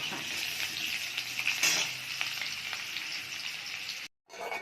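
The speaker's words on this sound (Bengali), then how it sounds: "আমি আলু এঁচোড় একটু ভালো করে ভেজে নেব, ভেজে তুলে নেব" Potatoes and young jackfruit frying in hot oil give a steady, close sizzle with crackling spatters throughout. A louder burst comes midway, and a brief silent gap appears near the end.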